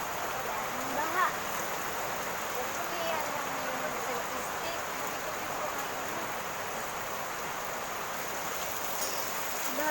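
Heavy rain during a flood, a dense, steady roar of downpour on surfaces that fills the whole stretch, with faint voices under it.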